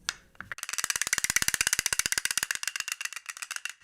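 A rapid, even burst of dry wooden clacks, a castanet paddle shaken into a fast rattle that slows and trails off, close and alone.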